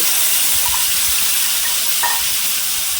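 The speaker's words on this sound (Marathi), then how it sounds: "आता यामध्ये ना आपल्याला ही जी ग्रेव्ही केली ती घालून घ्यायची" Gravy for Kashmiri dum aloo hits a hot pan and fries with a loud, continuous close-up sizzle and hiss that holds steady throughout.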